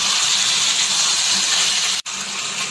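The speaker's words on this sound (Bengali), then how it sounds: "ভেজে রাখা আলুগুলো দিয়ে দিলাম।" Fried potatoes tipped into a pan of cooking spice masala set off a loud, steady hiss and sizzle, broad and continuous, with a brief dropout near the end.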